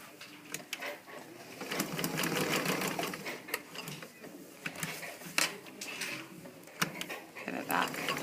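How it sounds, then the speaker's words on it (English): A sewing machine stitches a zipper in fast, steady bursts with brief pauses between runs, close and clear, with faint rustling of fabric between the stitching. "Sew up to the top."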